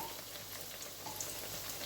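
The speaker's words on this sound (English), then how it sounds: "Frying festival." Steady crackling sizzle of Jamaican festival dough, made from self-rising flour, sugar, cornmeal and salt, frying in hot oil, a dense even hiss throughout with faint pops, no voices.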